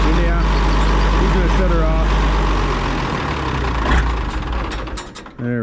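A Minneapolis-Moline G950 tractor engine chugs loudly and steadily, then sputters and winds down toward the end, with voices faintly in the background.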